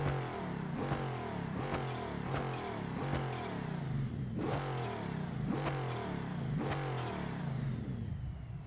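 A big-block engine in a drag racing truck in BeamNG Drive revs repeatedly, about eight rhythmic blips rising and falling over a steady loud idle, with no talk.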